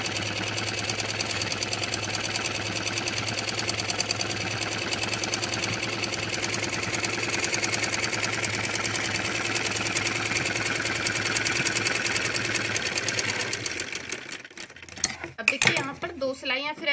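A sewing machine runs steadily stitching a curved seam on a Punjabi Patiala salwar hem, a continuous fast mechanical whir and rattle for about fourteen seconds before stopping with a few clicks and handling noises.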